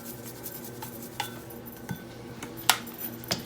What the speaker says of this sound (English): I'm just going to add a few shakes of my Greek seasoning